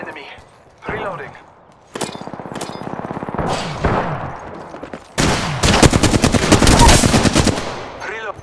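Gunfire in the shooter game Apex Legends, played on a low-end PC, with rapid automatic bursts followed by a long, loud, close sustained stream of shots, plus sharp metallic impacts, and in-game voice callouts in between.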